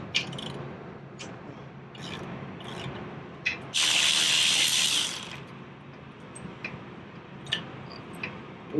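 A 19 mm wrench works the bottom rear shock bolt loose on a 2009 Harley Davidson Street Glide: close clicks and scraping of metal, with one longer grinding rasp in the middle.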